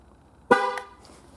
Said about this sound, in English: And it honks twice to let you know that it's done.